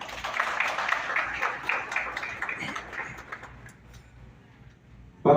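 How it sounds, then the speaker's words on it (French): Applause from the audience at an investiture ceremony for Haiti's youth government, a dense clapping crowd that is fairly loud at first, then thins and fades over several seconds before a sudden loud burst at the very end. "Veuillez l'applaudir aussi."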